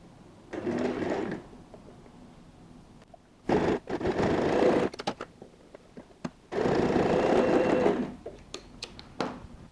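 A sewing machine stitches tape on a leather handbag in three bursts of steady, close whirring, separated by quiet pauses and brief clicks of handling.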